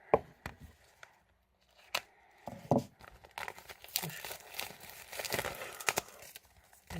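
Scissors cutting through stiff plastic wrap on a brand-new CD, a series of sharp snips and crinkling rustles in irregular bursts, close and fairly quiet, with pauses between cuts.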